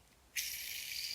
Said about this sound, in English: I'm sorry if you hear the spinning or clicking sounds in the background. It's just a fidget toy I have.